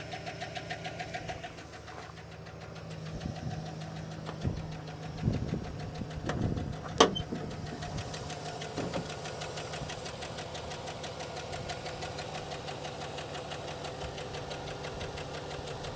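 A used car with 178,000 miles, thought to have a bad lower end, idles at auction with a steady rattling knock. A few louder clanks come near the middle, and the engine runs alone with no talk.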